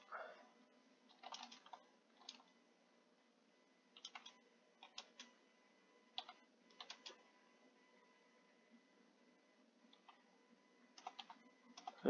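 Quiet typing on a computer keyboard, with short bursts of key clicks separated by pauses and a few isolated taps, heard close and alone.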